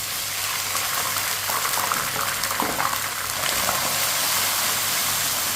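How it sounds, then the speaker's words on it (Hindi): Water poured into a pan of lightly browned onions while cooking chana pulao, a steady close gushing and bubbling pour lasting several seconds with no voices. "अब इसमें थोड़ा सा पानी डाल लेंगे।"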